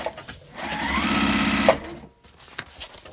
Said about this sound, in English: Anywhere there's going to be stress, I back stitch.